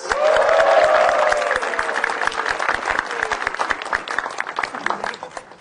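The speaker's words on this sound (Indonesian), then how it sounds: "Beri tepuk tangan yang meriah buat Panca Atis" A studio audience at a televised stand-up comedy show claps for comedian Panca Atis, the applause loud and full at first, then thinning into scattered claps, with music briefly underneath at the start.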